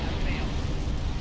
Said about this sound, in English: Fired bombardment.